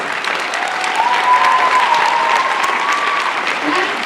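An audience at a school renaming ceremony in Salt Lake City breaks into sustained, loud applause and cheering, a dense, even roar of clapping lasting throughout, with a few voices calling out within the crowd.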